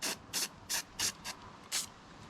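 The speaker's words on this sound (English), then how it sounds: "I give this a nice little spray." Quick hissing bursts from an aerosol lubricant can while cleaning an AK-47, six short sprays in an uneven rhythm, close and fairly quiet.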